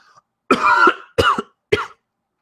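Three loud, close coughs from one person, the first drawn out and the next two shorter bursts, spaced about half a second apart, with a faint throat sound just before.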